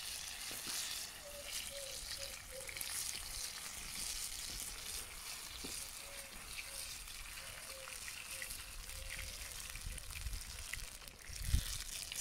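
Leek pişi dough sizzles and crackles in hot oil over a wood fire in a garden, a steady bubbling fry with occasional louder pops, close up and without talk.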